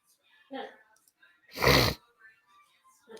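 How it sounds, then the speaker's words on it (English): A single loud, close sneeze bursts out between softer breaths and snorts, with brief sounds of a person around it. "I'm sneezing too much"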